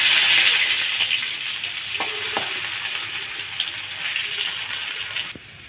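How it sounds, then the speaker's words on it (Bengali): Potatoes frying in a pan, a loud sizzle that gradually settles, with a couple of sharp clicks from flipping the pieces before the sound drops away near the end. "এই পিঠেও লাল লাল করে ভেজে নেব।"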